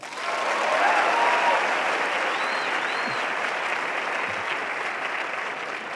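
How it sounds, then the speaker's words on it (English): Audience applause at a 2023 education lecture: a dense, steady round of clapping from a large crowd that holds at a fairly even, full level for about six seconds without letting up. "how many people have seen Napoleon Dynamite?"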